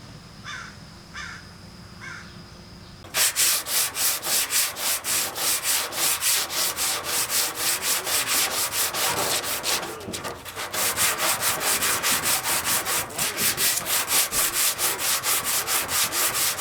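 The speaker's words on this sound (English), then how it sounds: "let's go ahead and keep sanding" Sander stripping paint from the hood of a 1969 VW Beetle, a rapid rhythmic rasping scrub, loud and close, running continuously after a brief quiet start with crows cawing in the background.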